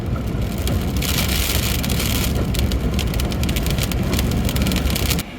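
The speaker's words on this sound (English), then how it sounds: "Now it is hailing." Hail pelting a car while driving on a road trip through the American Southwest makes a dense, continuous drumming clatter on the body and roof over a low road rumble, loud and unbroken before cutting off abruptly at the end.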